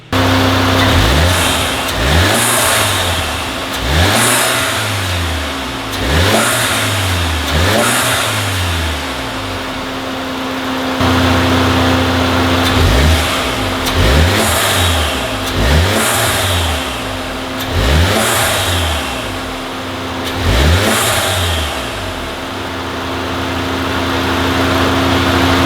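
Volkswagen Mk7 GTI with its turbo muffler removed, revved repeatedly in short rising-and-falling bursts, about ten blips in two sets, loud and close with a steady idle between.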